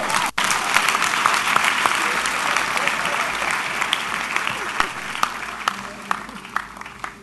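A church congregation claps during a sermon, steady crowd applause with a few sharper individual claps standing out, gradually thinning toward the end, with voices mixed underneath.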